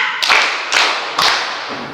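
A classroom group claps together in a counted pattern, three sharp, loud, unison claps spaced evenly about half a second apart, each with a short echo.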